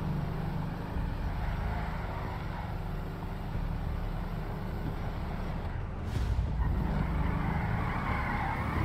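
Police Mercedes AMG car driving in GTA V, a steady engine drone with road noise held at constant level throughout, swelling slightly near the end.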